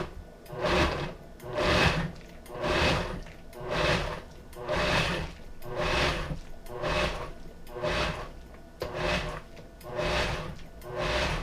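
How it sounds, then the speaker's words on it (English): A Nutri Ninja or Vitamix blender pulsing to chop vegetable soup ingredients, about nine even bursts of whirring roughly a second apart, each rising and falling with short dips between them, close and alone. "now I'm going to use the pulse feature to chop up the added ingredients"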